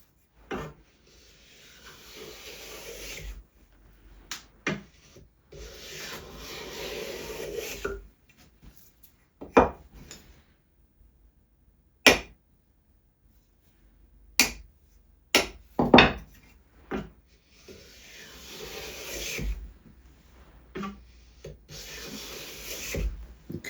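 A restored rusty block plane takes fine shavings off wood in several short rasping strokes, each a close, breathy scrape, separated by light taps and quiet pauses.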